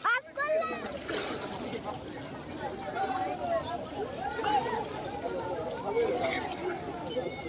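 People bathe and swim in the Ganges, their water splashing near and far amid steady outdoor chatter and a voice.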